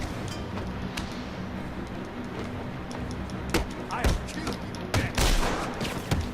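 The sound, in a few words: gunfire in Batman Return to Arkham City video game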